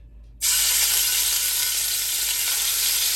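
Sofrito hits hot oil in a big karahi with a sudden loud, steady sizzle that starts abruptly and holds bright and close without letting up.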